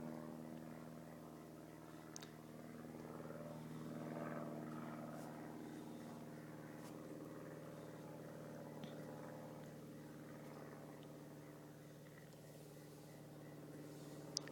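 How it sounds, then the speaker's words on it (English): A private airplane drones overhead at a memorial gathering, a faint, steady propeller hum that swells slightly and fades, heard alone without talk. "Hear the sounds of a private airplane above us."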